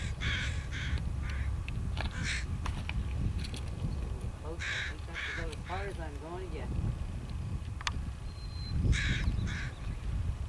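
Crows cawing outdoors on Grassy Point, a few harsh calls in short bursts scattered over steady wind and rumbling background noise, with some birdsong in between.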